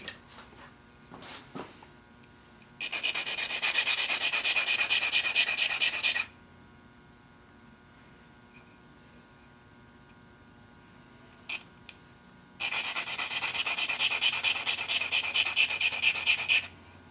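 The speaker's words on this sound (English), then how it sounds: "Let's see if I can just sharpen it real quick with a stone." A small drill bit is rubbed against a sharpening stone in two separate bursts of fast, gritty rasping, each several seconds long, with quiet pauses between and no speech.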